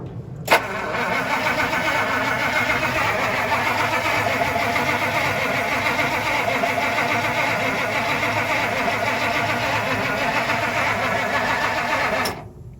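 A 1956 Plymouth Plaza engine cranks steadily on a start attempt for about twelve seconds, a loud continuous whirring churn that begins and ends abruptly without catching.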